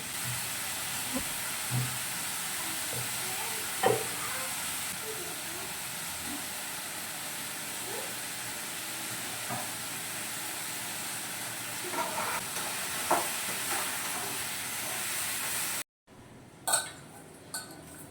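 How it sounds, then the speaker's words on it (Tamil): A soft, steady sizzle hisses as onions, tomatoes and curry leaves sauté in a pan throughout, with occasional light clinks of utensils, before it breaks off abruptly near the end. "வெங்காயம், தக்காளி, கருவேப்பிலை 3 போட்டு நல்லா வதக்கிட்டேன்."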